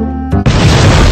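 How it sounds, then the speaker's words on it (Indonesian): A sudden loud explosion in the video game GTA bursts in after a brief engine-like hum, leaving a sustained roaring, crackling blast of noise. "Awas, nanti meledak."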